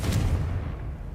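Confringo fire spell blast cast in the wizarding game Hogwarts Legacy: a deep, rumbling low-end boom that swells quickly and then rolls on as a sustained, loud roar through the whole moment, with no voices.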